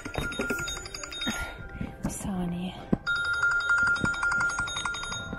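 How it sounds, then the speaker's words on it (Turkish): A mobile phone rings inside an IKEA store with a repeating electronic ringtone pattern, heard under nearby talk and shop background noise. "Telefonum çalıyor."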